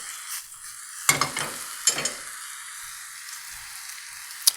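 Kale and mushrooms sauté in a pan, a steady sizzle running throughout, with two louder bursts of scraping and turning as the greens are flipped and a sharp tap near the end; no one speaks.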